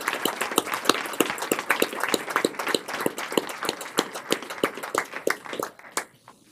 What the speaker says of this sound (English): I would like to let's give them a round of applause